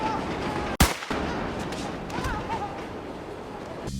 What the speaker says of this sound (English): the guards will also open fire on you